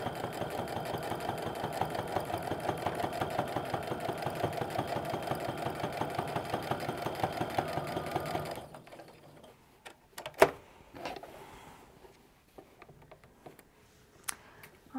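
A sewing machine stitches an apron in a steady, continuous run for about eight seconds, then stops, followed by a few faint clicks and handling sounds.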